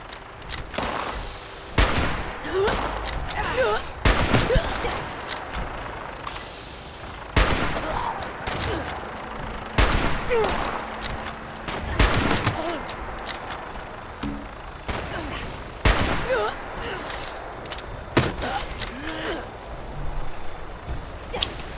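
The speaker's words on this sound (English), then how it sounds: "You're just shooting your friends." Gunfire in the online game Fallout 76 with friendly fire disabled, repeated sharp shots and short bursts cracking out at irregular intervals over a continuous game soundscape.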